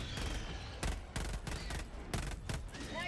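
Support weapon firing in a video game: heavy, booming shots in an uneven series of about six or seven blasts over a rumbling background, loud and close.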